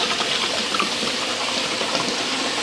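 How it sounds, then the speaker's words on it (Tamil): Large amounts of water are poured into a big vessel of soaking rice for Dindigul biryani, a steady, dense gushing and splashing that holds evenly throughout, close and loud, with no talk. "2 கல் தண்ணி ஊற்றியாச்சுங்க"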